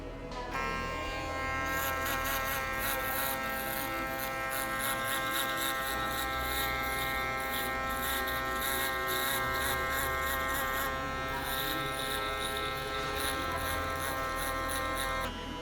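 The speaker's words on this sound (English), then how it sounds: "This is a Stylecraft Instinct shaver, by the way. This is my favorite shaver right now." A Stylecraft Instinct electric shaver, fast motor, runs continuously and close up while shaving a man's head, a steady high buzz with slight shifts in pitch as it moves over the scalp and no talking.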